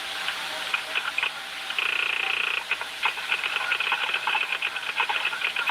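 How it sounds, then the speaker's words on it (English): A Morse code signal sounds on a hissy police radio recording, with a high steady tone broken into quick rhythmic beeps that run continuously over the static. "whoever said Morse code is right"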